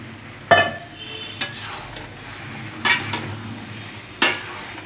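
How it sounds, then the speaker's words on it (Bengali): Boiled young jackfruit is tipped into fried spice masala in a pan, with four separate sharp scraping clatters of a spatula against metal spaced through a quiet kitchen. "এবার সেদ্ধ করা এঁচোড়টা আমি দিয়ে দিচ্ছি।"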